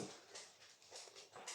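A dog whimpers close by in a quiet indoor room, giving a few soft, repeated high whines in short pulses with no talk over them.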